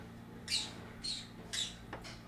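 A pet bird gives three short, shrill squawks at roughly half-second intervals, fairly faint against a quiet indoor background, followed by a softer chirp.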